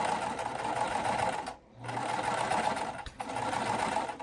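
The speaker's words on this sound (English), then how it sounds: "sewing that next edge." Domestic sewing machine running at speed with a regular presser foot, stitching the edge of a puff quilt pillowcase, a close, steady mechanical whir that pauses briefly twice as the fabric is turned at a corner.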